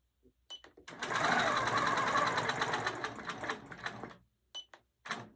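A sewing machine stitches a feathered heart guided by quilting rulers, a rapid steady mechanical whir lasting about three seconds, bracketed by short needle clicks and brief pauses.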